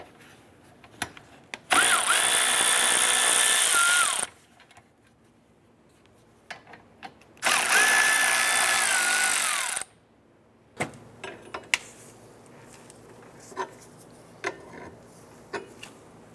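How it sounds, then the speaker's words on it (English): A power tool fitted with a 15mm socket spins off the wiper arm nuts on a 2011-2019 Ford Fiesta in two loud bursts of a few seconds each, with quieter clicks and handling noises in between. "Using a 15mm socket, we're going to go ahead and remove our wiper arm nuts."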